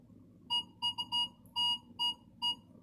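Minelab Vanquish 340 metal detector beeping over a quarter during an air test, a series of about seven short, clear, high-pitched tones in an irregular rhythm over a low background hum.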